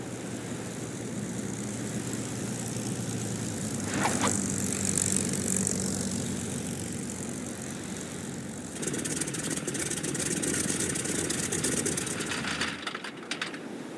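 Propeller warplane engine droning steadily as it comes in to land on an aircraft carrier in the naval combat game Battlestations Midway, a continuous loud roar with a swell partway through and a rougher, sputtering stretch near the end.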